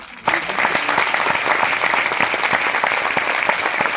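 A theatre audience breaks into loud, sustained applause that starts suddenly and holds steady as a dense wash of clapping from a large crowd.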